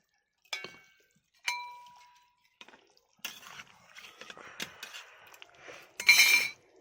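A metal lid clinks back onto a pot of rohu fish and ghati kochu (taro) curry in a home kitchen, with a few sharp clinks and taps, quiet bubbling and dripping underneath, then a louder clatter at the end.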